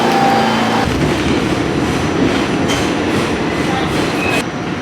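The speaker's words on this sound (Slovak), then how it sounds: "New Yorkské metro, here we come." A New York subway train rumbles loudly nearby, steady rolling roar with periodic rhythmic clatter from the wheels, no clear talk.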